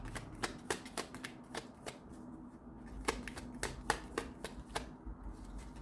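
Tarot cards are shuffled by hand up close, producing a quick series of crisp riffling flicks and soft slaps in irregular bursts, quiet and alone with no talking.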